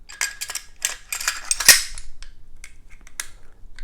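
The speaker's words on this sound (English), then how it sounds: "So let me get the bolt carrier group back in here" A bolt carrier group sliding back into a 7.5-inch .223 Wylde AR pistol upper: a burst of quick metallic clicks and scrapes, then one sharp snapping clack, followed by softer, scattered rattles of metal parts.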